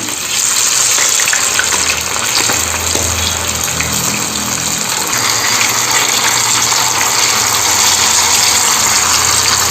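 Fish pieces frying in hot oil for a crispy fish fry, giving a dense, loud, continuous hissing bubble that stays steady throughout without any talk.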